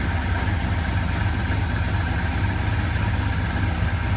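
A 1981 Suzuki GS850 motorcycle engine idles in a steady, loud, close rumble with a constant low throb and no change in speed, with no voices.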